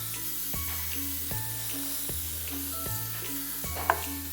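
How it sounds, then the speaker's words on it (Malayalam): Crushed ginger and garlic sauté in coconut oil, sizzling steadily throughout, with a regular low thump of stirring about every 0.8 seconds and one brief clink near the end. "ഇഞ്ചിയും വെളുത്തുള്ളിയും ചതച്ചത് വെളിച്ചെണ്ണയിലേക്ക് ഇടുകയാണ്. അല്പസമയം വഴറ്റുന്നു."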